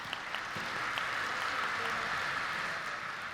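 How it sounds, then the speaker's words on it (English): Audience applause after a traditional Korean percussion group's performance at a mantra chanting festival, a steady, fairly distant wash of clapping that holds evenly throughout with no voices. "Please once again give the percussion group Yadan Bopseok a warm round of applause."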